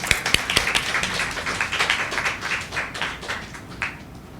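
Audience at a literary reading series event giving a round of applause, dense sharp clapping that starts strong and gradually thins and softens.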